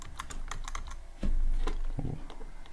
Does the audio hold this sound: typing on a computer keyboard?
yes